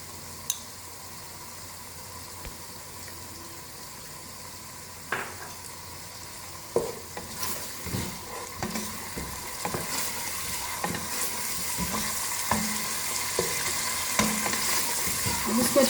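Masala with tamarind pulp fried and stirred in a pan for ridge gourd sabzi, starting with a steady soft sizzle and building after a few seconds into repeated spoon scrapes and clinks over a continuous fry, with no talking.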